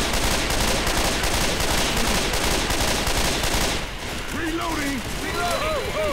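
Dense, continuous gunfire in the zombie shooter Left 4 Dead 2, a rapid rattle of automatic fire that eases slightly toward the end as players shout and talk over it.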